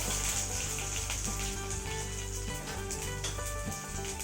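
Spices and garlic tempering in hot oil in a kadai for ginger rasam, a steady loud sizzle and crackle with occasional stirring clinks.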